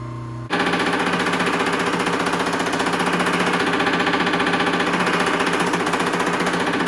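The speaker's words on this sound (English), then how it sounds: "The metal hammer makes pretty quick work of that weld seam" Metal hammer planishing a weld seam on a steel rear fender from a 1939 Harley-Davidson WLDR 45, a loud, rapid, continuous rattle of hammer blows that starts abruptly and runs steadily at close range.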